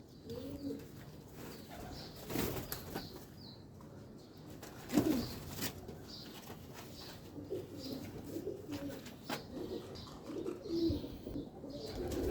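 Soft, low coos from Cheena pigeons in Lahore repeat now and then over a steady background hum, with a brief burst of wing flapping partway through.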